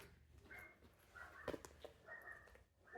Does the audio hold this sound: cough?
no